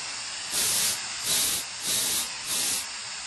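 Hissing sonification of the water-vapour plumes from the south pole of Saturn's moon Enceladus, a kettle-like steam hiss that swells in four rhythmic bursts over a constant rushing background.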